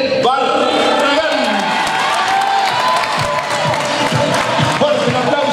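A crowd at a Club Unión Día del Amigo party applauds a longtime member being honoured, with loud, continuous clapping mixed with cheering and shouting voices that fill the room throughout.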